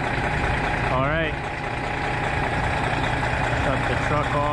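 A truck engine idles with a steady, loud low rumble throughout, and a brief voice-like warble rises over it near the start.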